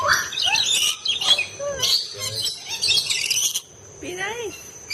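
Parrots at a bird park in Kuala Lumpur, Malaysia, give loud, close squawks, chirps and whistling calls in quick bursts, with people talking nearby.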